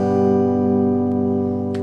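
An electric guitar chord strummed once through an amplifier, ringing out full and loud with a steady buzzing sustain that slowly fades, close and alone.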